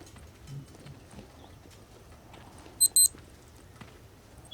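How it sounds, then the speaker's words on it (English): An alarm in The Walking Dead VR game gives two quick electronic beeps close together, short and clear over a low rumbling, muffled background with no talking. "So your thing starts ringing and beeping when that bell is about to go off."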